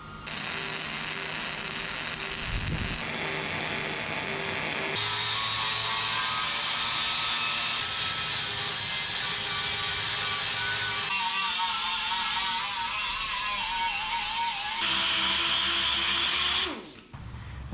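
Power sanding a fresh weld smooth on a custom rear bumper for a 1977 Datsun 620 minitruck, a continuous loud abrasive whine and rasp with shifting pitch that holds steady for most of the stretch, alone without talk.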